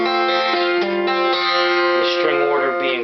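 A melodic acoustic guitar phrase, with sustained, ringing notes and a sliding pitch change toward the end, played alone at steady volume.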